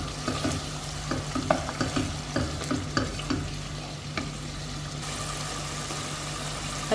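Curd being stirred into half-fried masala in a pan, with steady sizzling and repeated scraping spoon strokes over a low background hum.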